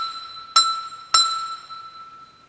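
A small handbell is struck twice while damped against a table, each strike giving a bright, clear ring that lingers and slowly fades, with no voices.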